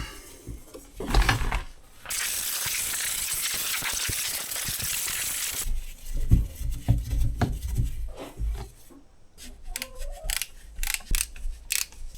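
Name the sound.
ratchet removing carburetor from Husqvarna 162 chainsaw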